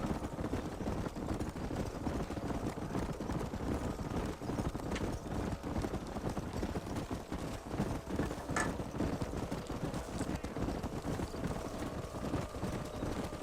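In the Red Dead Redemption 2 video game, horse hooves clip-clop steadily and fast on open ground, joined by a faint whinny. The rhythmic galloping stays continuous and mid-loud under wind-like noise.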